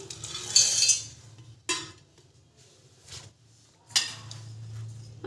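Roasted chickpeas tipped into a mixing jar for a dosa and idli chutney, heard as a few separate rattling clinks and clatters of dry pieces against the jar, fairly close, with quiet gaps between.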